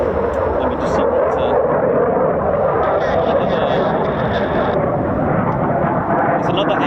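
MC-130J military turboprop engines run at RAF Mildenhall with a dense, continuous rumbling drone and a steady midrange whine, heard from a distance with some faint higher tones over the top.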